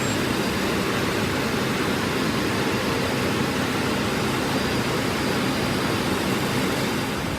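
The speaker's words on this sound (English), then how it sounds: "first you need to go start the vehicle, then press start so it circulates the refrigerant" A/C recharge machine runs steadily, circulating refrigerant through a car's air conditioning while the vehicle's engine idles, making a constant broadband whirring hum with no pauses.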